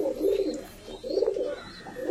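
Young highflyer pigeons cooing in soft, low, repeated bursts, close by and fairly loud with no other voices.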